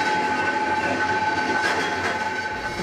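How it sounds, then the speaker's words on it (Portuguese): A train passing through a town square, a loud continuous rumble with steady clatter and a sustained tonal whine, close by and filling the short clip without any voices. "que barulho de trem, onde será que tem trem aqui?"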